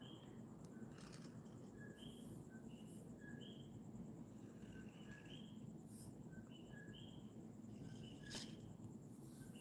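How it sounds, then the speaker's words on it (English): Coqui frogs calling through the night, high two-note chirps repeating from several directions over a faint steady hum, fairly distant and soft. "You may be able to hear the coqui frogs in the background."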